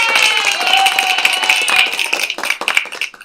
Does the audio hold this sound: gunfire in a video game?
no